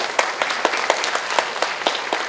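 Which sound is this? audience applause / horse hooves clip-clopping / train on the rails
audience applause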